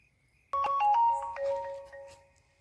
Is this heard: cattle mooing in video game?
no